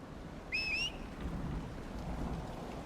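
A stormy scene in the video game Dragon Age Inquisition, with a steady wash of rain and low rumbling throughout and a short whistling cry rising over it early on.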